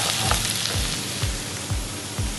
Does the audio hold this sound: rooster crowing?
no